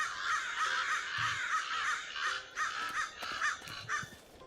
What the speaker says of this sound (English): Okay, are these birds real?